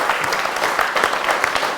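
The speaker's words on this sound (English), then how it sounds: "So just a round of applause for" Short round of audience applause at an evening talk with a photographer, a steady, fairly close wash of many hands clapping.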